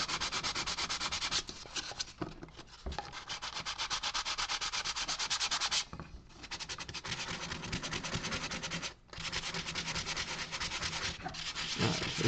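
A Dremel rotary tool carves a model with a continuous high, gritty whine, broken by brief pauses as the bit lifts off, close and steady, with no talking.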